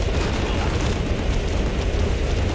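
Dense, continuous roaring blasts of rocket explosions in the action shooter GunGrave G.O.R.E, loud and unbroken with no distinct separate booms.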